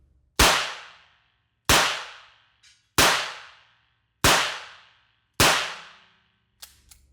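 A British revolver fires five loud, sharp shots in double action at an even rhythm of roughly one per second, each crack decaying quickly into a short ringing tail, followed by faint metallic clicks of handling.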